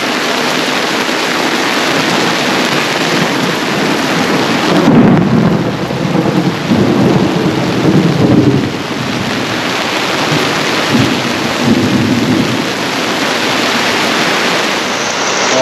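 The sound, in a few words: thunderstorm with lightning and rain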